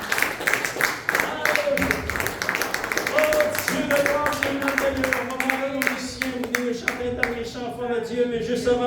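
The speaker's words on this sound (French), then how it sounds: "Donnez une bonne main d'applaudissement" Church congregation clapping together, a rhythmic run of sharp handclaps over music and singing, close and continuous, with voices carrying a melody beneath.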